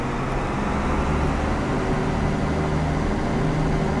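BR 612 tilting diesel railcar in Train Simulator on the Nuremberg–Bayreuth line, a steady loud engine drone with low rumble held throughout, no talk.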